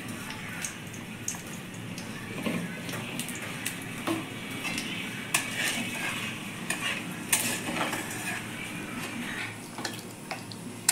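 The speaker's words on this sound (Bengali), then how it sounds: "এই তেলে আমি তেজপাতা, শুকনো লঙ্কা, গোটা সাদা জিরে একটু ফোড়ন দিয়ে একটু নাড়াচাড়া করে নেব" Bay leaves, dried red chillies and whole cumin are tempered in oil in a kadai and stirred. Soft sizzling runs underneath, while a utensil repeatedly scrapes and clinks against the pan close up.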